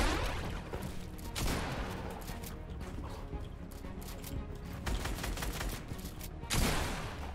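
Pump shotgun blasts ring out in a shooting video game, mixed into a dense, loud stretch of rapid gunfire with heavier booms near the start and end, while voices talk underneath.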